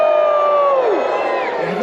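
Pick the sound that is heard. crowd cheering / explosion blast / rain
crowd cheering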